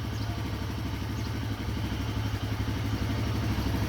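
Royal Enfield Himalayan 450 motorcycle idling steadily up close, a continuous low engine rumble with fine rapid mechanical clatter, loud and alone with no talk.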